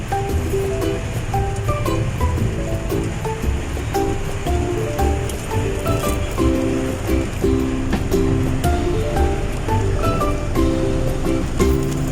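Floodwater rushes and churns steadily through a street in Dagupan City, a constant turbulent wash heard up close, with faint tonal sounds and background noise mixed in.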